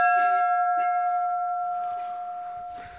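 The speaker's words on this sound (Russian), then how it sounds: "Вот такие вот колокола." A bell in the abandoned town of Zashiversk in northern Russia rings in winter with a sustained, clear tone that slowly fades, joined by faint lighter strikes and soft background noise.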